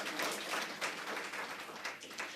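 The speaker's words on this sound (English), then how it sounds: "He deserves another round of applause" A round of applause from guests at a CEOs' breakfast dialogue with the President, dense clapping that holds steady and fairly faint for a couple of seconds.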